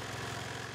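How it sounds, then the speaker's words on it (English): A lawnmower engine in the video game Hello Neighbor runs at a steady idle, a faint low, evenly pulsing chug that holds throughout with no talking. "I turned on the lawnmower."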